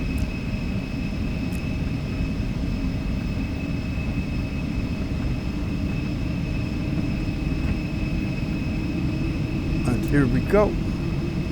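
Twin jet engines of an Xcrafts Embraer E-170 in X-Plane 12 hum in a steady, loud drone with high whining tones while the airliner waits to take off, and a voice speaks briefly near the end.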